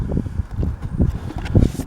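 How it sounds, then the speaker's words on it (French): Gusts of wind blow outdoors, buffeting close against the microphone in a low, uneven rumble with no voices. "Vous voyez, il y a du vent, ça souffle."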